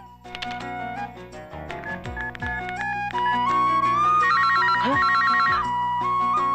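A phone's electronic ringtone chirps in a rapid repeating melodic pattern, loud and close over a background music score, with no voices.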